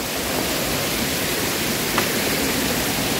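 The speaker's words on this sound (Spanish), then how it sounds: "lo que es el chorro que está cayendo, ¿verdad? Que es como tipo cascada" A small waterfall near a river spring in Usulután, El Salvador, with water pouring from a rock in a close, steady, broadband rush and no pauses or voices.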